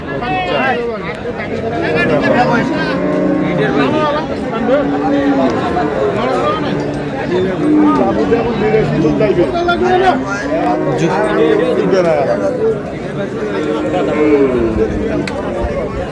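Cattle low and moo repeatedly amid a noisy crowd at a village livestock market, with people talking and bargaining close by throughout.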